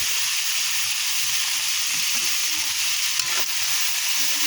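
Vegetable lumpia spring rolls frying in hot oil, a steady loud crackling sizzle with a faint stir near the end, no voices.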